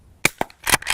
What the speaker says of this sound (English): You can hear a 9mm, that's probably 50 yards away shooting